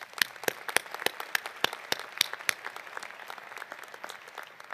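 Audience applause at the University of Idaho 2017 winter commencement ceremony, steady crisp clapping from a large crowd with sharp individual claps standing out, moderately loud and without talk.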